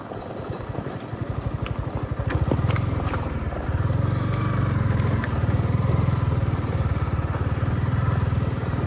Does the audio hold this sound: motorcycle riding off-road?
yes